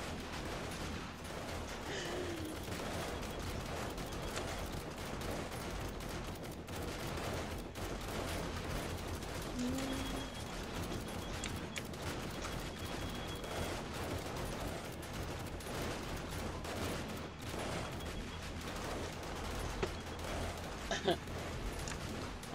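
Gunfire and explosions from a video game, including rocket launcher blasts, crackle in dense continuous bursts with scattered louder bangs, all over a busy mixed background of game noise and faint talk.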